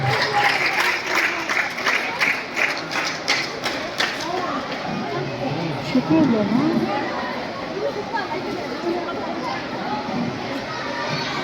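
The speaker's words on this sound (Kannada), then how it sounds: "ಅವರು ಕೂಡ ಚಪ್ಪಾಳೆಯ ಮೂಲಕ ಸ್ವಾಗತವನ್ನ ಕೊಡ್ತಾ ಇದ್ದಾರೆ" An audience at a school Teachers' Day celebration claps in a burst of welcome that fades after a few seconds, leaving voices and crowd murmur in the hall.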